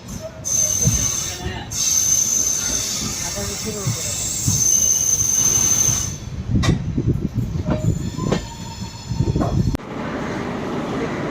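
A Mayiladuthurai–Mannargudi passenger train rolls past up close with loud rumbling and metallic wheel squeal, rhythmic clatter building toward the end.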